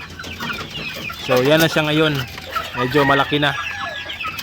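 Young chicks in an outdoor brooder, crossbred game fowl and natives, cluck and cheep in loud repeated calls close by, with someone speaking briefly over them.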